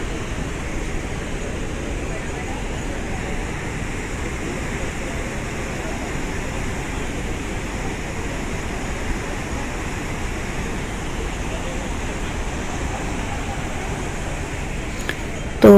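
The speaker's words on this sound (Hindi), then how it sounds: "तो सुना आप लोगों ने झरने की आवाज़" A waterfall visited on a trip in Jabalpur sends out a steady, roaring wash of rushing water. The sound is loud and unbroken throughout, with no pauses.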